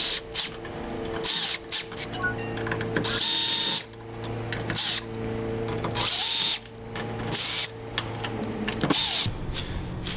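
Power drill backing screws out of a push bar exit door crash bar, in repeated whining bursts of varying length with short pauses between, close and loud, no talking.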